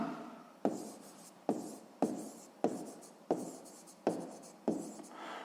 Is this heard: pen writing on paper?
yes